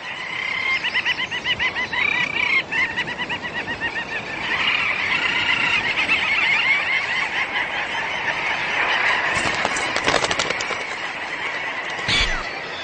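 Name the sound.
seabird colony calling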